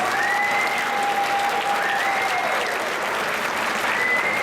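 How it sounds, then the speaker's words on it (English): A school crowd applauds Silver Award recipients at a fifth grade promotion ceremony, steady dense clapping that holds at an even level throughout with faint whistle-like tones running over it. "let's give all of our recipients for the Silver Award a round of applause"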